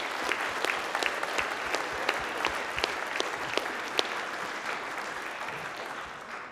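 A church congregation applauds at a confirmation Sunday service, steady dense clapping with sharp individual claps standing out, moderately distant and sustained throughout.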